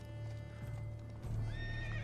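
A horse in The Witcher 3 gallops with steady hoof clip-clops, then lets out a loud, close whinny over a continuous game background drone.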